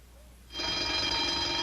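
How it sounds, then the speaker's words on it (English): An old-fashioned telephone bell rings inside a locked room in a 1960s television comedy scene. After a quiet opening, a sustained, bright, metallic ring starts abruptly and continues steadily. "Hey, the phone's ringing in there."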